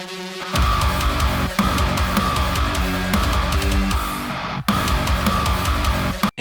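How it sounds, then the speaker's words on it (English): A bright saw lead synth patch built in Serum plays a melodic riff in a modern metalcore arrangement, loud and steady with dense sustained harmonics, briefly cutting out twice before resuming, no voices. "So I found a cool saw in Serum"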